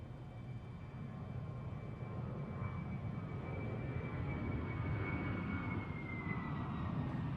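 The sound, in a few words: Embraer KC-390 military transport aircraft flying at airshow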